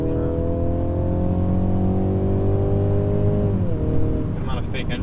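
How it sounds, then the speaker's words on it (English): Synthesized engine sound piped into the cabin of a 2022 Mercedes-Benz C 300 in Sport mode, a steady rising drone with layered harmonics that drops off as the car lets up, heard from inside the car. "Good amount of fake engine noise in there."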